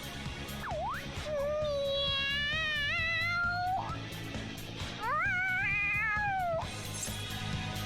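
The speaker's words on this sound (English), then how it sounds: "The cat's acting awfully excited." A cat in the Persona 5 video game gives several excited meows: a short call, then a long drawn-out wail, then another rising, wavering cry, all loud and close over a low background hum.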